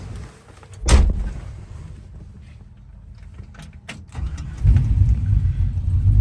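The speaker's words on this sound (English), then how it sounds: "Fires right up just like you'd expect a LS1 engine with factory style fuel injection to start and run" A 1972 Chevy C10 restomod pickup's LS1 V8 with factory-style fuel injection cranks and fires, a sharp catch followed by a steady low idle that swells louder as it settles into running.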